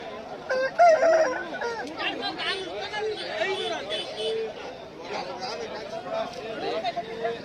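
Roosters crow and chickens cluck amid the busy chatter of a country chicken and breeding rooster market, with several birds calling close by and people talking throughout.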